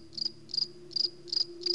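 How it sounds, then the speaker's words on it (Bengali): Crickets chirp at night in steady, evenly spaced bursts of shrill trills, about five pulses over a faint constant drone, with no voices. "চারিদিকে শুধু অন্ধকার আর ঝিঝি পোকার ডাক শোনা যাচ্ছে।"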